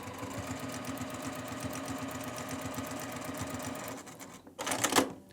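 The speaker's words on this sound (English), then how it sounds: "you're going to be stitching right here along the red line" A sewing machine stitches a quilt seam along diagonal seam tape, a steady, close, rapid mechanical whir and needle thump running nearly continuously, then stopping with a brief rustle at the end.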